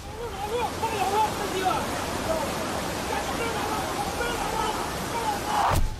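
Floodwater rushes in China, a dense continuous roar of fast-flowing water with faint scattered voices beneath, and a brief louder burst near the end.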